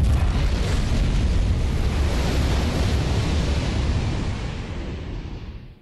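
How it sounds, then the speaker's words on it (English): A huge explosion destroys a ship in the Splinter Cell Double Agent video game: a loud, sustained broadband roar rumbling for several seconds, then fading at the end, with no voices. "That was a huge explosion."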